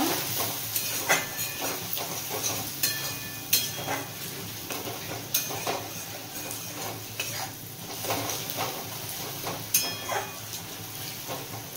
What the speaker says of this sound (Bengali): একটু কাশ্মীরি লঙ্কার গুঁড়ো দিয়ে দিলাম। আবারও ভালো করে ভেজে নেব।